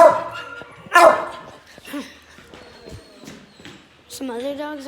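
Several dogs bark, yip and whimper in an animal shelter in sharp, irregular bursts that echo close by, with people talking in between.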